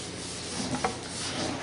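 Sandpaper rubbing the side of a homemade wooden guitar body gives a steady, close, dry scratchy rasp with a slight swell near the middle, and no voices.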